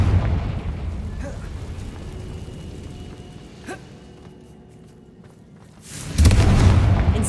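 A Confringo spell explosion in the video game Hogwarts Legacy, a sudden loud, rumbling burst near the end following a quieter stretch of ambient game sound and a faint earlier thud.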